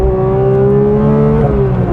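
A Porsche 911 GT3 engine holds a high, steady rev, a strong whining drone with a slight pitch drop near the end, loud and close.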